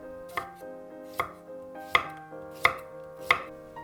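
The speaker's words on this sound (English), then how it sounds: "Just peel it and cut it into slices." A knife slices through a peeled broccoli stem on a board in five crisp, evenly spaced cuts, close and distinct with brief ringing after each stroke.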